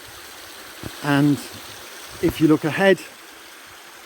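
Blakeley Brook, a small moorland stream where the Pennine Way crosses it on Wessenden Moor in the Peak District, trickles steadily in the background beneath someone talking close to the microphone.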